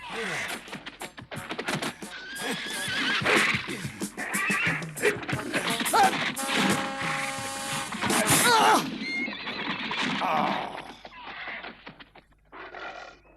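Cartoon horse neighing and bucking, loud repeated whinnies and snorts mixed with hoof clatter and thumps, under and between excited voices.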